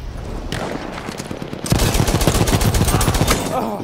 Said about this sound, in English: That sniper actually just shot me